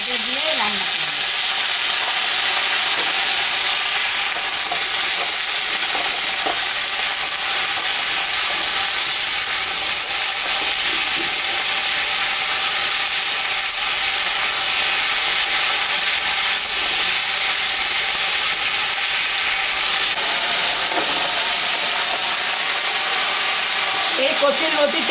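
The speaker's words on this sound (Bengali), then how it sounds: "পেঁয়াজটা ভাজে ভাজে আমার হয়ে গেছে, এখন আমি আলু আর কচুরলতি এটা দিয়ে রান্না করব" Potatoes and taro stolons fry with onions in a pan, giving a loud, continuous close-up sizzle with occasional stirring scrapes throughout.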